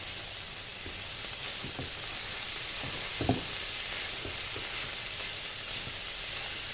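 Onions fry in a pan with liver on a gas stove, giving a continuous sizzling hiss with a few soft clinks of stirring.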